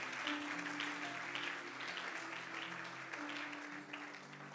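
Sustained applause from a church congregation at a Sunday thanksgiving service, a dense steady clatter of many hands over sustained organ or keyboard tones, with no pause across the stretch.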